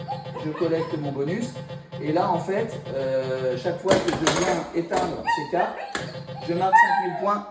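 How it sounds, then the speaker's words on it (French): Excited yips and whimpers from a dog sound in the room beside a 1978 Gottlieb Close Encounters of the Third Kind pinball machine, mixed with someone talking and game chimes. "c'est le chien, excusez-le."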